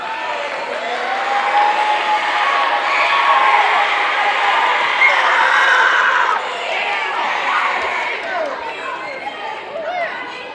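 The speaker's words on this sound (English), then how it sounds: "Let's give them a round of applause." Students at a 7th grade awards ceremony are applauded, a sustained crowd clapping with chatter and some shouting that swells then slowly fades.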